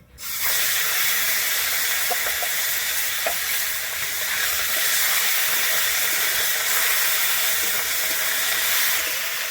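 Onion paste and black cumin seeds drop into hot oil left from frying fish and set off a loud, steady, close sizzle that hisses on without a break, with faint stirring scrapes here and there.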